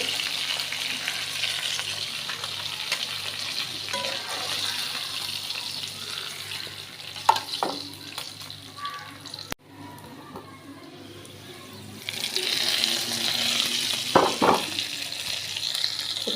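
Pangas fish frying with onions in a pan: a steady, close sizzle with occasional stirring clinks, dropping quieter for a couple of seconds midway before surging back.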